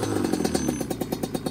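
A Banshee 350 or KTM 450 ATV engine revs hard on a tight throttle, running a little rich, giving a loud, close, rapid pulsing buzz with repeated throttle bursts and no talk.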